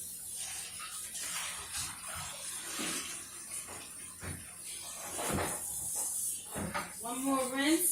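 BBQ ribs are rinsed under running water, giving a steady hiss with splashing surges and a soft clunk, and a voice comes in near the end.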